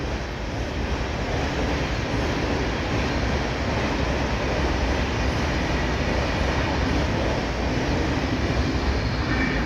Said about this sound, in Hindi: ट्रेन पर ट्रेन जा रही है